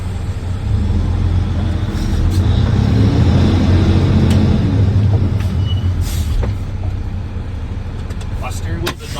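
Inside the cab of a truck with a 10-speed Eaton Fuller manual transmission, pulling away in third gear, a steady low engine rumble fills the space, broken by a few sharp clicks and brief hissing bursts.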